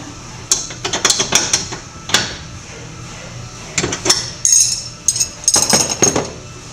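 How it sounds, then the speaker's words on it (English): A door striker pin being tightened on a Can-Am Maverick, a string of sharp metallic clicks and ratcheting taps in irregular bursts, close by. "So I'm going to come back and snug down my striker pin."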